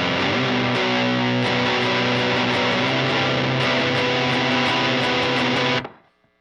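A heavily distorted electric guitar rings out in a loud, sustained chord with a few picked accents, then is cut off abruptly near the end.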